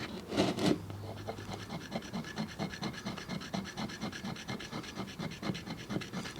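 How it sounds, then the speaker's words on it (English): Soft mineral rubbed by hand on a slate palette to grind it into paint, a close, steady rhythmic rasping scrape repeating quickly and evenly, with no talking. "you can just rub it on the slate"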